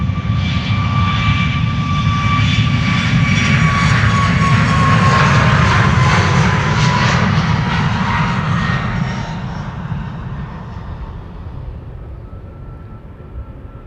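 A jet airliner in a new livery departs Schiphol, its loud, steady engine roar rising and then slowly fading as it climbs away, with whining tones above the rumble.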